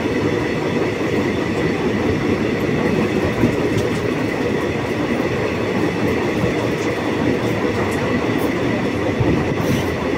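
A passenger train on the Howrah to Jasidih line rolls steadily along the rails, a loud, continuous rumble with faint rhythmic clatter from the wheels and no voices.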